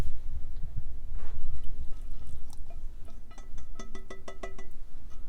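Thick tomatoes pour and splash into a pan of turkey chili, followed by a few wet plops and drips near the end.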